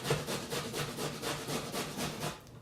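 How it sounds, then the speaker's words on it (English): Carrots being grated in a kitchen, a rhythmic run of about a dozen rasping strokes at an even pace, close and moderately quiet, with a faint background hum. "So just grating carrots"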